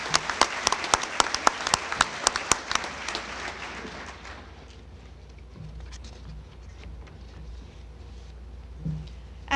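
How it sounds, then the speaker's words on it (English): A school awards program audience claps loudly with dense, rhythmic applause for about four seconds, then the clapping dies away into quiet room tone with a few scattered sounds. "So big round of applause for our parents and family members."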